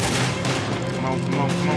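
Gunfire rattles through a shootout in the video game Red Dead Redemption 2, a dense, continuous burst of overlapping shots filling the short span at steady loudness, mixed with game sounds.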